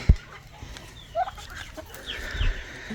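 Jersey Giant chickens cluck softly a few times nearby, scattered short calls over a quiet background with a couple of low thumps.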